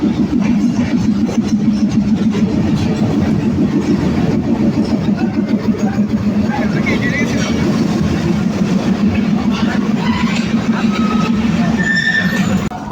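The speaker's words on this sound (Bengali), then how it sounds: "অবশেষে আমাদের Tungipara express train Kalukhali junction স্টেশনে প্রবেশ করলো 22 মিনিট বিলম্ব নিয়ে" The Tungipara Express rolls into Kalukhali Junction station, a loud, continuous rumble of wheels and carriages that holds for the whole stretch, with faint higher squeals and clatter on top.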